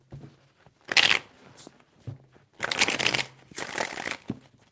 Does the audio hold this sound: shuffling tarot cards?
yes